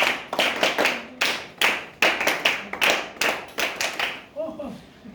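A group of people at a Bharat Scouts and Guides gathering clapping together, a dozen or so sharp, fairly loud bursts of applause in an uneven rhythm, with brief voices near the end.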